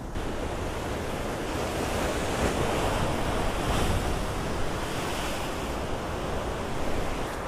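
Sea waves break on the coast during a sea fishing trip, with constant surf and gusting wind that buffets the microphone loudly the whole time. No one speaks.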